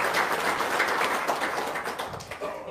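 An audience gives a short round of applause, a steady wash of many hands clapping that holds across the moment with no talk over it.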